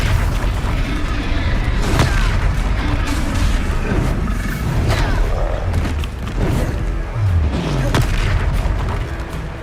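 Confringo fire spell explosions in the video game Hogwarts Legacy, loud booming blasts and thuds repeating over a dense, continuous layer of in-game combat noise.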